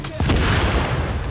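An M4 rifle fires in the video game The Division, a loud, rapid burst of automatic gunfire lasting about a second.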